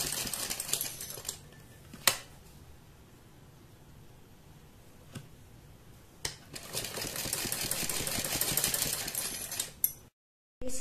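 A sewing machine runs a loose basting stitch around a neck opening, tacking fabric to buckram. The machine whirs in short, near bursts, with a longer steady run near the end.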